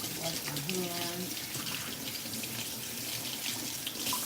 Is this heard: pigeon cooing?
no